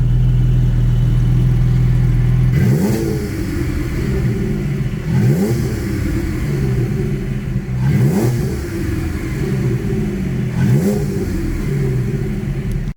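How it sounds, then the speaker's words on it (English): A Porsche 718 Spyder with an Akrapovic exhaust and its valves open, heard from inside the cabin, idles briefly, then rips through four sharp, loud throttle blips at roughly even intervals, each falling back quickly between revs. "we push on the exhaust button to open the valves."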